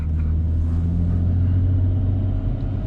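A 2014 Audi A6 with an APR tune accelerates hard, its engine a loud, steady low roar heard up close from inside the car, with no voices over it.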